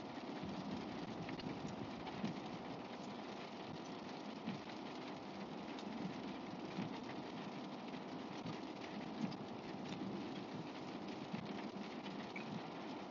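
Rain falls steadily during a storm near Fort Loudon Lake in East Tennessee, a continuous dense hiss that fills the whole stretch, mixed with a low rumble of engine or road noise.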